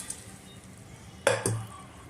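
Soaked mung dal and rice tipped into a pot of softened onion with salt and turmeric for Maharashtrian tadka rice, giving two quick close clattering pours against a quiet kitchen background.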